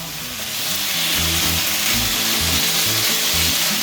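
Beef strips fry hard in a hot pan for black pepper beef, a loud, continuous crackling sizzle that swells early and holds steady, with no voices.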